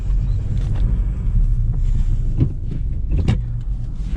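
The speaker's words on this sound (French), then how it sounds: "je suis à bord d'une voiture de course super puissante" A 2008 Volkswagen Scirocco 1.4 TSI with 160 hp, heard from inside the cabin while driving, gives a loud, steady engine and road drone with a few brief knocks and bumps.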